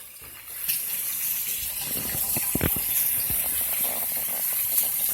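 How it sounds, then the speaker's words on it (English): Tap water runs steadily into a sink while hands are rinsed under it, a close, continuous gushing splash with small irregular spatters and no talk. "I'm going to just rinse my hands off here."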